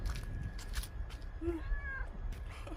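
A white stray cat meows faintly once or twice against a low background rumble and scattered clatter, with no talking.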